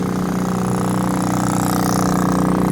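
An International truck engine idling after a cold start in February, a loud, steady diesel rumble with an even low-pitched pulsing throb that never changes pace through the whole short stretch.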